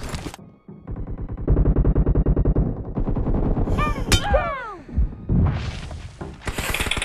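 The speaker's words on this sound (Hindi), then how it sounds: "यहाँ पे गोलियों की बौछार हो रखी है" Heavy gunfire in the mobile battle royale game BGMI, played on an Oppo Reno 5 Pro, with dense rapid bursts of automatic shots, several sharp whizzing ricochets in the middle, and a final loud volley.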